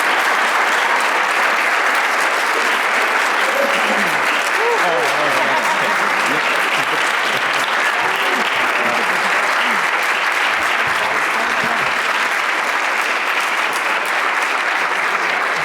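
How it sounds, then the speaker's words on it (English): Sustained, loud audience applause for a youth activism cohort at an annual conference panel, dense clapping holding steady throughout with some crowd voices mixed in. "One more round of applause for the youth activism cohort."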